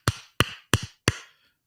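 A voice imitates the firing rhythm of a .50 cal machine gun with four loud, evenly spaced percussive bursts, slow and heavy, each with a short thudding tail.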